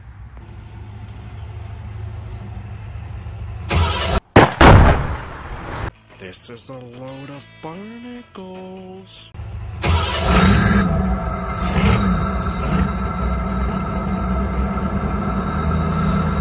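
Inside the cab of a Ford Bronco fitted with a homemade cold air intake, the engine is heard with a brief sharp burst, then a loud, rough, steady drone. Someone talks briefly in the middle.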